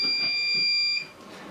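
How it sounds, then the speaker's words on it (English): A Tecotherm Neo machine sounds its alarm after losing power, a steady high-pitched electronic tone held for about a second before cutting off, loud and close, with quiet room noise afterward. "If you lose power with your machine, you'll get a further alarm."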